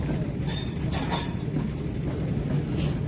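A train runs at Nandyal railway station near the Gandhinagar gate with a steady rolling rumble and clatter of wagons. Brief high wheel squeals rise over it, close and fairly loud, with no talk.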